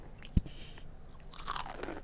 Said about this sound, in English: I hear you chewing. Sounds like you're chewing chips.